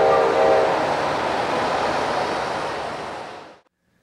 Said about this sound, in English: A system of 8 hobby train whistles signal the approach of incoming trains to Miami's Metro Rail Government Station